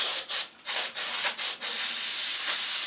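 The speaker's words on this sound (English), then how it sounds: "A little bit of brake clean here." Brake cleaner sprayed onto a John Deere 318 garden tractor during a teardown: a few short, loud, close hissing bursts, then one continuous spray to the end.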